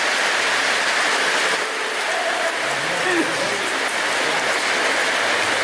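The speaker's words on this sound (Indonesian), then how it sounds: "Cuaca hujan lur." Steady rain falls outdoors as a dense, even hiss throughout, with a faint low rumble and soft tonal sounds beneath it.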